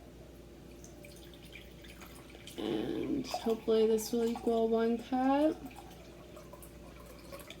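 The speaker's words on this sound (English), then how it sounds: "I've put some water in a Topo Chico bottle that I'm saving. And so we can fill it up together." Water poured from a Topo Chico glass bottle into a measuring cup while making oobleck: a brief close gurgling splash, then a person talks over a steady low background hum.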